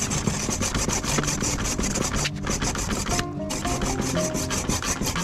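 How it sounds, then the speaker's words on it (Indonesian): Steady back-and-forth rasping of a hand saw cutting through wood, continuous and close, with a brief pause partway through. "kemudian ini kita juga gergaji ini permukaannya nih"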